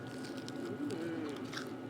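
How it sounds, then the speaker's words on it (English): Someone chews chuck roast meat off a bone beside a fire, with soft close bites and wet crunching over a constant low background rumble. "chewing meat off a bone looking at a fire"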